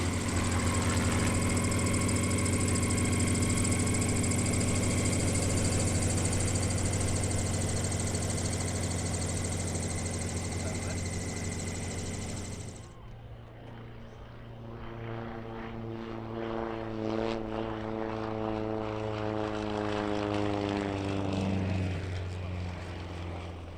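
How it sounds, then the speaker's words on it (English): Sukhoi Su-26M aerobatic propeller plane of a European aerobatic champion at an airshow: a loud, steady engine drone with propeller whine, then a sudden drop in level to a rougher, shifting engine note as the aircraft changes power. "This is Castor Fantoba, the 2014 European aerobatic champion in his Sukhoi Su-26M."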